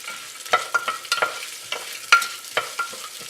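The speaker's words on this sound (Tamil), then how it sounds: "நல்லா வதங்கணும் நம்மளோட வெங்காயம் வந்து." Sliced onions and green chillies sauté in a pan for kuska, with scraping stir strokes and light clinks cutting through a soft, steady sizzle, no voices.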